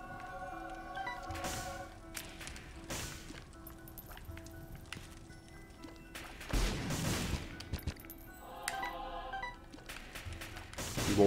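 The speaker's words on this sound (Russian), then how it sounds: "Я забыл, что он взрывает бочки." Explosions and gunfire-like blasts from barrels destroyed by a knife in The Binding of Isaac: Afterbirth, with repeated sharp bangs and a heavier crash midway over game music and effects.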